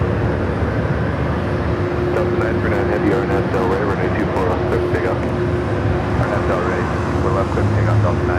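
An airliner rumbles at Los Angeles LAX airport with a steady, loud broad roar and a faint whine, while a voice talks over it throughout.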